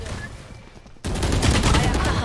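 Gunfire in the tactical shooter Valorant during a competitive cup match, a sudden loud burst of shots breaking in after a quieter stretch and continuing densely to the end.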